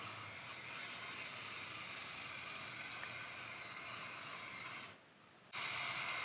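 An SNT Y60 4x4 micro RC rock crawler with broken steering drives round in circles, its tiny electric motor and gears giving a steady, close, whirring ratchet-like whine that drops out briefly near the end before resuming.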